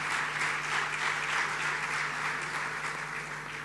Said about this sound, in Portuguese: E pedia para eles uma salva de palmas